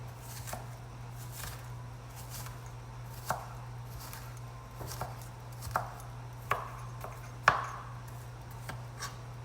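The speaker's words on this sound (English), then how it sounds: "I try to get them as evenly chopped as possible, but I can't do it fast." A knife chopping cauliflower and broccoli on a cutting board, producing a steady series of soft, unhurried thuds over a low constant hum.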